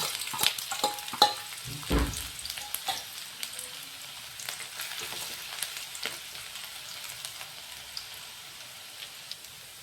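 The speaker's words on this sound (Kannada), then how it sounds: "ಕಡಾವಿಗೆ 2 ಚಮಚದಷ್ಟು ಎಣ್ಣೆ ಹಾಕ್ತೀವಿ ರೀ. ಅಲ್ಲ ಬೆಳ್ಳುಳ್ಳಿ ಸಣ್ಣಗೆ ಕಟ್ ಮಾಡಿ ಇಟ್ಕೊಂಡೆವು, ಅವು ಹಾಕ್ತೀವಿ" Chopped garlic sizzling and crackling in about two spoons of hot oil in a kadai, a fairly quiet, steady frying hiss with sharp pops and a few stirring clatters early on, with no one talking.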